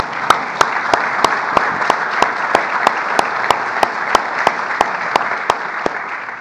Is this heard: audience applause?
yes